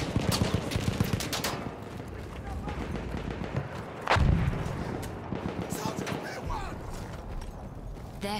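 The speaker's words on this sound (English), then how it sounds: "This is a goddamn sniper rifle we've got." Sniper rifle fire in Battlefield 1, a series of sharp, loud shots with one heavy blast near the middle, over a busy bed of battlefield noise with voices talking throughout.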